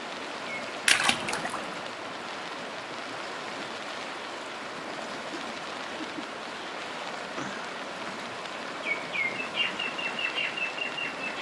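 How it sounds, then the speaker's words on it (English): Scattered chirps from small birds sound faintly near the end over a steady hiss of flowing water, after one sharp brief burst near the start. "Is the birds chirping?"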